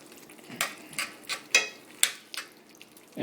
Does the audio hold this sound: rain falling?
no